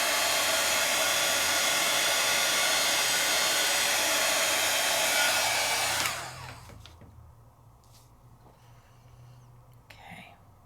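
A heat tool blows hot air over a layering stencil on Gasen paper, a loud steady whooshing roar for about six seconds before cutting off, leaving quiet handling sounds and faint movement.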